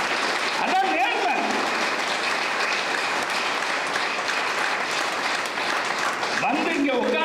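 An audience at a comedy speech event claps steadily for several seconds, a dense, fairly loud patter of many hands, with a voice briefly audible near the start and again near the end.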